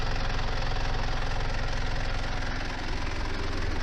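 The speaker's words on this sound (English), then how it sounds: "So just to prove that the engine is idling correctly" A Mitsubishi Pajero engine idles steadily outdoors on a freezing snowy night at minus 14, a smooth, even rumble that stays close and constant throughout with no talk over it.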